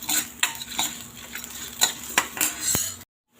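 Lentils, chillies, garlic, spices and tamarind dry-roasting in a pan for bitter gourd podi. A spoon stirs and scrapes in quick clinking strokes over a faint sizzle, close up, ending abruptly in silence.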